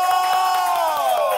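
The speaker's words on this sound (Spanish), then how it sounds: "¡El aplauso!" A studio audience cheers and whoops at the start of a Spanish-language talk show episode, a dense, loud crowd roar running steadily for about a second and a half without pause.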